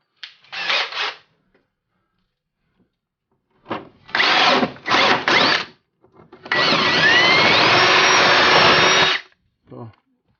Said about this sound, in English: The template calls for a half inch paddle bit or hole. So that's what we're going to drill out.